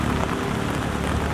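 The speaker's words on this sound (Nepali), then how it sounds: "आज दिनभरि पानी पर्छ" Heavy daytime rain pours down during monsoon flooding in Kathmandu, a loud, dense, steady hiss filling the whole short stretch with no voices.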